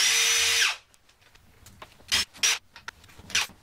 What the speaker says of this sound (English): So I have my power tools lined up with a 3mm hex key.